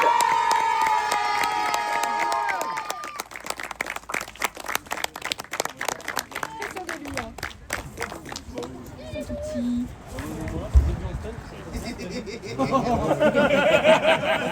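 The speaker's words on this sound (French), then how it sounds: "vous pouvez encore les applaudir" Crowd at a motorcycle race cheering and clapping, with a loud announcer's voice talking over it; bursts of applause and shouts rise and fall, ending in a stronger wave of cheering.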